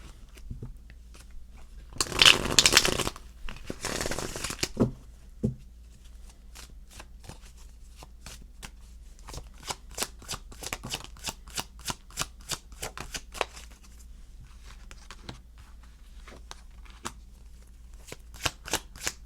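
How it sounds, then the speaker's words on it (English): A deck of tarot cards is shuffled up close: a dense riffling burst, a second shorter one, then steady crisp card snaps and taps in an irregular rhythm. "Let me give this deck a shuffle."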